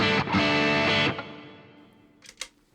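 An electric guitar played through a Boss GT-1000 without a boost pedal, with a bright, distorted chord strummed twice loudly, then ringing out and fading, followed by two short muted picks.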